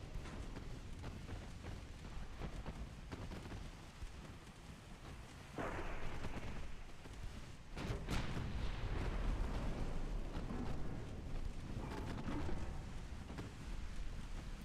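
Torpedo explosions rumble in a naval battle game of dreadnought-era warships, with a dense continuous roar of heavy booms and crackling, a sharp burst near the middle, distant and muffled, no talk.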